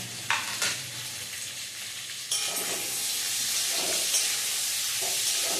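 Capsicum hits a hot pan for chilli chicken: a couple of sharp clatters, then a loud, continuous sizzle and hiss that jumps up and holds steady close by, with occasional stirring and no talk.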